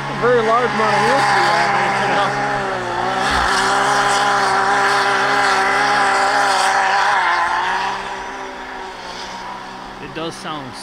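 A car on snow tires drives hard with a steady, loud engine drone that rises and drops as it shifts gears, close and continuous, fading slightly near the end.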